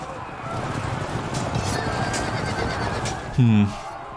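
Horses neigh in the medieval strategy game Field of Glory 2 Medieval, a short loud whinny near the end rising above a steady bed of battle noise and talk.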